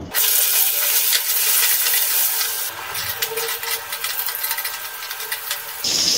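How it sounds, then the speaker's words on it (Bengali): Pointed gourd (potol) pieces fry in hot oil, a steady hiss and sizzle that softens and crackles unevenly before a brief sharper burst at the end. "এবারে পটলগুলো ভেজে নেব।"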